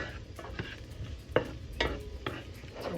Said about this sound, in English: So we're just going to go ahead and get this stirred.